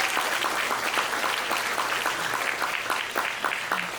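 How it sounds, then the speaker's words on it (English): An audience applauds Niharika Ray at a school fundraiser awards presentation, with dense, steady clapping filling the whole stretch at fairly close range. "Can we give a huge round of applause for Niharika Ray"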